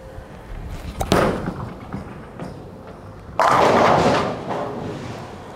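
Storm Typhoon bowling ball striking pins on a lane, a sharp impact near one second and then a louder crash of scattering pins that fades over about two seconds.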